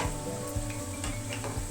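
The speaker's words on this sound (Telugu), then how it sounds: "త్వరగానే ఫ్రై అయిపోతుంది" Cabbage 65 fries in oil at medium heat, a quiet, steady sizzle close by, with soft, regular stirring scrapes throughout.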